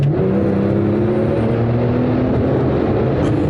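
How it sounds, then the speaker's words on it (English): A Porsche 911 Turbo S accelerates hard, its engine and turbo building into a loud, continuous close-up roar with a steady rising drone and no voices over it. "Got it, make some turbo noises."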